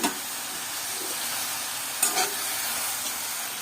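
Gongura leaves sauté in a hot pan with a steady, close sizzle and hiss, broken by a brief louder stir or scrape about two-thirds of the way through; no talk.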